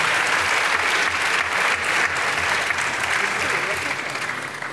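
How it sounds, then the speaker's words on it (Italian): Sustained, loud applause from an audience at an award ceremony, a dense wash of clapping that fills the room and holds steady before easing slightly at the end. "facciamo un applauso al pianoforte, lo strumento"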